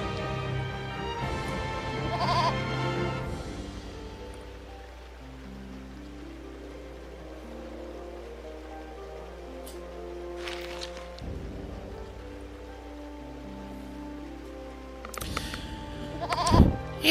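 A goat bleats in the video game Eternal Sonata: a nasal bleating cry opens the clip and returns near the end, with soft game music playing in between.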